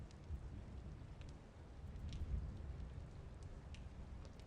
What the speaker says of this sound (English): in this kind of weather, you would get some shelter, check out the rain